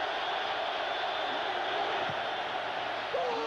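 A large stadium crowd at a 1991 NFL game between the Buffalo Bills and the Los Angeles Raiders roars steadily during a kick, a dense, constant wash of noise with a few whistles and whoops standing out.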